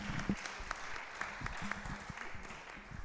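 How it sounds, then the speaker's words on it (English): An audience claps after a public lecture, a steady patter of hand claps from a modest crowd in a hall, continuous and moderately loud. "Ladies and gentlemen, let's clap again and welcome to the future."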